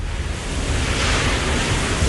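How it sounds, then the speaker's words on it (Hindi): Cyclone Amphan's roaring wind and surging sea on the coast form a loud, steady, dense rush of noise that holds constant throughout, with no voices. "चक्रवाती तूफान अम्फान की इस आवाज को जरा गौर से सुनिए"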